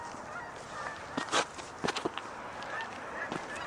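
Distant geese honk in a few scattered calls about 500 yards away, heard from a trail, over steady outdoor background noise, faint and far away.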